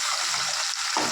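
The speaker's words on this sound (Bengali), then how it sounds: "পেঁয়াজটা একটু কষা হয়ে গেছে তেলে" Onion with tomato and green chili frying in oil, a loud continuous close sizzle over a brief moment with a faint scrape of stirring near the end.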